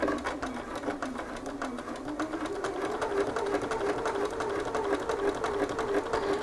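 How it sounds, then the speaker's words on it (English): Home sewing machine stitching a shirt yoke along the seam allowance, a steady, fast mechanical whir and needle chatter running continuously at close range with no pauses. "I'm starting at one shoulder and I'm stitching within the seam allowance"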